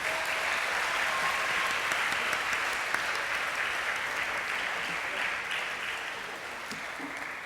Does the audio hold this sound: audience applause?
yes